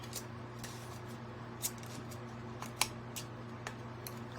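Scissors trim the ridged edge of an aluminum can: faint, sparse snips and clicks spread out over a steady low background hum. No voices.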